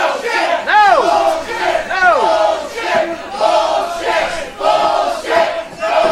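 Wrestling arena crowd cheering and shouting at a rock-and-roll wrestling event, loud waves of voices with rising whoops and yells, dense and close, surging and dipping repeatedly.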